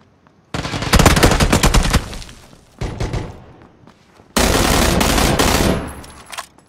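Bursts of gunfire in the video game PUBG, with rapid loud automatic fire in two long volleys and a shorter burst between, separated by brief quieter gaps.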